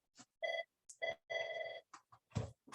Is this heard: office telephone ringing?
yes